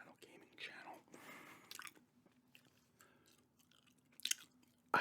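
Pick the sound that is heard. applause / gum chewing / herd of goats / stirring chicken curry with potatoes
gum chewing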